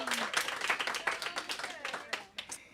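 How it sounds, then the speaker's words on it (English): An audience at a church talk claps for a woman, brief, uneven clapping with a few distinct hand claps and a voice over part of it. "let's give her a round of applause"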